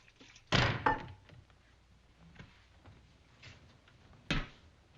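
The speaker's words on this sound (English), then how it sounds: "Close that door." A door is shut with a heavy, close thunk followed by a quick rattle, then a second solid knock a few seconds later, set in a quiet room with faint background noise.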